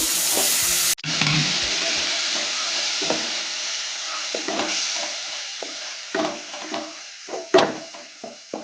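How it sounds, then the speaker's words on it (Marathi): Masala of dry coconut and cumin roasting in a pan for a Malvani-style prawn curry sizzles loudly after hot water is poured in, with intermittent scraping stirs and sharper clatters toward the end. "थोडं गरम पाणी टाकते आपल्याला मसाला भाजायसाठी."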